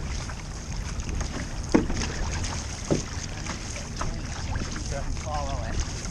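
A paddling crew, aged 50 and over, drives their boat forward with rhythmic paddle strokes splashing in the water under steady wind noise, while people talk over the strokes.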